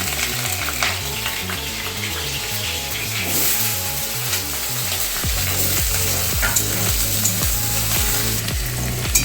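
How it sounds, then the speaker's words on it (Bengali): Potatoes frying in a pan, a continuous close crackle and sizzle with a series of sharp scraping stir strokes toward the end, without any speech. "এরপর আমি আলুগুলো ওই করে ভেজে"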